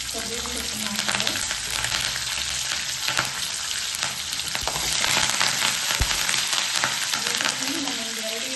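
Green chillies and a large sprig of curry leaves frying in hot oil give a steady, dense sizzle with crackles and occasional spatula scrapes, close and continuous, with no talk.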